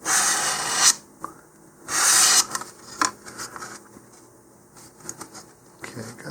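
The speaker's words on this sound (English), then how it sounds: "I'm using 150 grit sandpaper" Hand sanding of balsa-style model rocket fins with 150 grit sandpaper, heard as close, rasping strokes in a few loud bursts with quieter rubbing in between.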